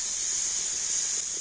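Grated coconut hits a hot wok with a loud, continuous hissing sizzle that holds steady and bright for the whole moment.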